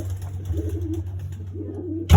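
A pigeon coos twice in soft, low, throaty bursts, close by, followed by a sudden loud rustle at the end.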